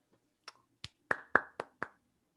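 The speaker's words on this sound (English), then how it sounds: "I clapped into the microphone" Six sharp hand claps straight into a close microphone, spaced unevenly over about two seconds, each a crisp dry smack with a short ringing tail, alone in otherwise quiet room.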